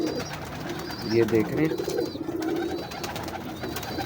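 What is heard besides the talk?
pigeons cooing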